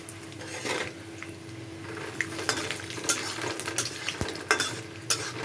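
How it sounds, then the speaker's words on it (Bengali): Peanuts frying in white oil in a pan, a soft continuous sizzle close by, punctuated by light clinks and scrapes of a spoon stirring, with no voices. "বাদামগুলো ভেজে তুলে নেব"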